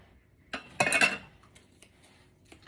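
Sugar being stirred into cassava cake batter in a bowl, heard as a few faint utensil scrapes and clinks against the bowl, one busier burst in the middle, otherwise quiet.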